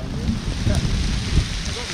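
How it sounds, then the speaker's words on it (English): Rain falls steadily in a dense, even patter across the whole moment, with no voices over it. "Down came the rain."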